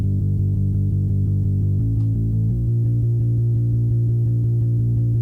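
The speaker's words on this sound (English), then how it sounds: "I have the rock bass and it sounds like this" Rock bass guitar tone from a free VST plugin on its old rocker setting, playing fast repeated low notes in a steady driving pattern with a pitch change midway, loud and alone.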